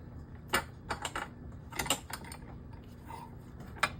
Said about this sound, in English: I go back to the vise. Tighten it up as best I can.